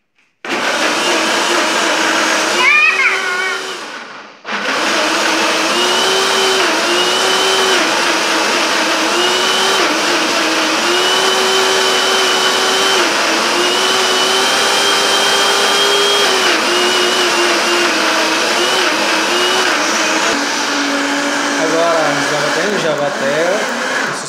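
A blender whirs steadily through a batch of jabuticaba mousse, loud and continuous with a motor pitch that wavers as the mix thickens, pausing briefly near the start before restarting.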